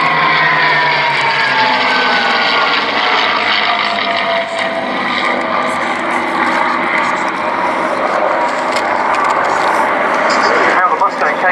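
Two P-51 Mustang piston fighters fly past at an air show, a loud continuous engine drone with shifting propeller tones holding steady throughout, over crowd and commentary voices.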